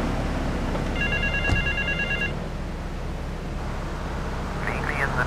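A telephone rings in Grand Theft Auto III, a steady electronic trill lasting over a second amid game ambience and engine noise, with a brief second chirp near the end.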